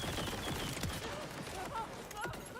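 In Borderlands 4, a gun that shoots fireworks lets off a continuous crackle of rapid popping shots, with bursts and whistling effects layered throughout.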